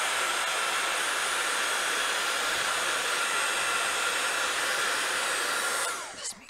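Heat tool blasting air to dry ink on a watercolour craft tag, a loud, steady broadband roar held for about six seconds before it cuts off abruptly near the end.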